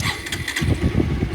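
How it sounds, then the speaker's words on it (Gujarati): A motorcycle engine being started, sputtering and catching into a rough, uneven idle close by, with no talk. "ચાલો બાઇક સ્ટાર્ટ કરીએ"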